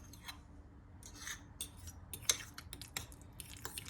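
Avocado mixed with lemon juice and salt, heard as soft scattered scraping and clicking of a utensil against a bowl, faint and close, in short irregular strokes.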